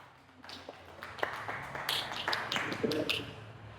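A university class claps for a student named Resti during a teaching session. The scattered, light hand claps from a small group build briefly and then trail off, with faint room voices underneath.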